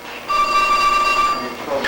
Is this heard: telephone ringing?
yes